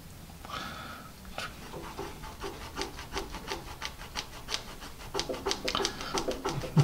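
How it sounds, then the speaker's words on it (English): A rubber eraser rubbing pencil marks from a Dixon Ticonderoga 1B off paper, quick close scrubbing strokes in a rapid back-and-forth rhythm that grow louder and steadier over several seconds. "How about a rubber eraser?"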